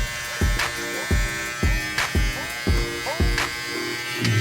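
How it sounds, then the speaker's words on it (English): A sharp-bladed electric beard trimmer buzzes in repeated short passes through a beard, about seven even strokes with a steady motor hum underneath, close to the microphone. "This beard trimmer blades are so sharp"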